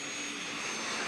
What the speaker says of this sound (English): These are turbines.